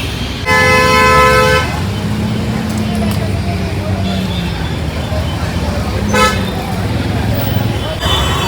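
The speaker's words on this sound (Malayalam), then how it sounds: "ചുമ്മാ ഇടുന്ന ഹോൺ അടിച്ച് വേറെ ബ്ലോക്ക മൊത്തം" Car horns honk repeatedly amid busy traffic noise, with a long blast at the start and another short burst later, and voices under the din.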